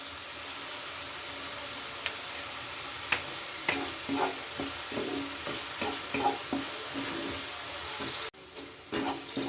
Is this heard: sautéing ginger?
yes